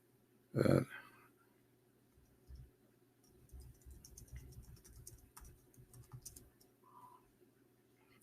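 Someone types on a computer keyboard to run a search, producing a faint, irregular patter of soft clicks in a quiet room after a single louder knock.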